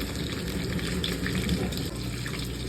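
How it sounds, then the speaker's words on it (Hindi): Water poured into a pan for chicken Manchurian gravy makes a steady, continuous splashing gush, close and moderately loud throughout with no talk over it. "बस इसके अंदर अब जितनी आपकी ग्रेवी बनाना चाहते हैं आप लोग उतना पानी डाल दें।"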